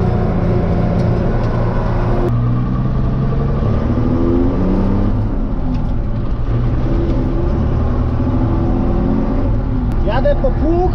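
A Fortschritt ZT323 tractor engine drives steadily with a continuous low rumble and whir, constant and loud throughout, while someone talks over it.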